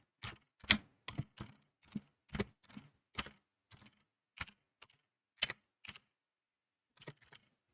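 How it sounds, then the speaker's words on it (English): A website address is typed on a computer keyboard: a close, quiet run of distinct key clacks in uneven bursts with short pauses, ending after a brief gap with a few more taps, and no talking. "Just type in your website URL."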